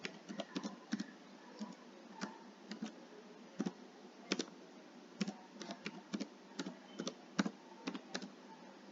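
Rapid, irregular keystrokes on a computer keyboard as an email address is entered, soft clicks in quick bursts with short pauses, nearby and fairly quiet, no voices.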